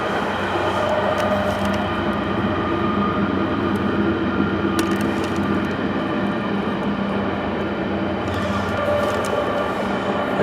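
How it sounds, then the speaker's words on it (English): A train passes nearby with a loud, steady rumble and rolling clatter that holds evenly throughout, with a few sharper clanks rising above the continuous drone. "Sorry about the train, guys."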